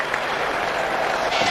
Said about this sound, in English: I can hear a ripple of applause there.